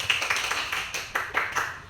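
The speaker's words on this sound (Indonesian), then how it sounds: "Kita tepuk tangan untuk kita semua." A group at a school gathering claps together in brisk rhythmic bursts, bright and fairly close, with a few faint voices in the background.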